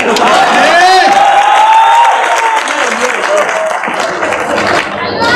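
Audience applause at a comedy and satire poetry performance, with a dense, steady wash of clapping and crowd noise throughout, with a speaking voice riding over it.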